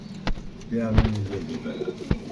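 Pigeons coo in a loft, a soft low warbling call rising briefly over background noise and a few sharp knocks.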